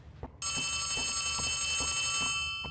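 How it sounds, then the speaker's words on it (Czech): A telephone rings continuously in the Poppy Playtime Chapter 3 video game, a loud electronic bell tone with steady repeating pulses beginning abruptly after a brief quiet moment. "Jo, telefon."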